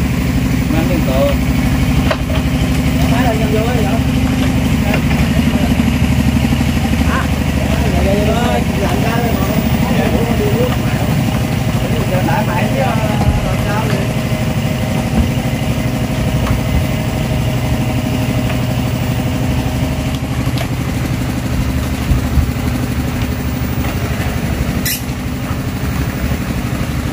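A boat engine on a rural canal putters steadily close by, a constant low mechanical drone, with some chatter and faint other sounds over it.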